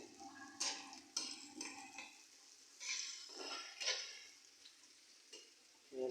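Fish and pointed gourd frying in a pan in a home kitchen, with soft sizzling broken by several sharp stirring scrapes and clatters, fairly quiet and close.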